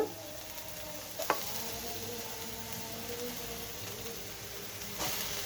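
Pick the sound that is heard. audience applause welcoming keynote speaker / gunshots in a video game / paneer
paneer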